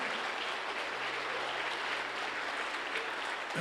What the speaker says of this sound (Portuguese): Merece um aplauso, merece não?